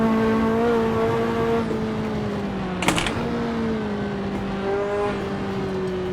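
Ferrari F40 engine in the Assetto Corsa racing sim on the Nordschleife, holding a steady droning note that dips and shifts in pitch with a brief rasp near the middle, loud and continuous with no talk.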